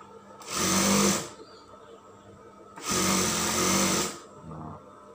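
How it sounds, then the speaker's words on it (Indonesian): Sewing machine stitching a kebaya collar, running in two loud sustained bursts of about a second each with a shorter softer run at the end, separated by brief quiet pauses. "Nah sekarang kita jahit gini aja langsung ya Ibu ya"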